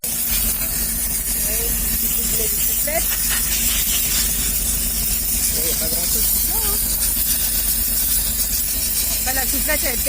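A compressed air blow gun hisses in a loud, steady, unbroken rush that lasts throughout, with people talking in French over it.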